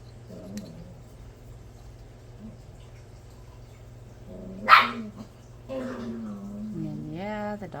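Dogs bark a couple of times at mid distance, with a short sharp burst and some drawn-out howling yips, over a low steady hum.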